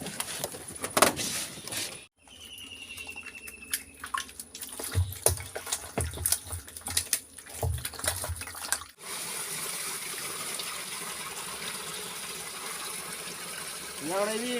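Water pours into a container holding freshly caught pond fish, with knocks and handling noises at first, then a steady close rushing flow for the last few seconds.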